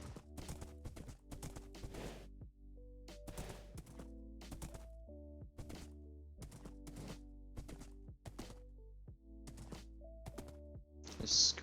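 Horse hooves clopping in Minecraft, sharp, fairly close clip-clop thuds in irregular bursts over a steady tonal game music bed, with no talking.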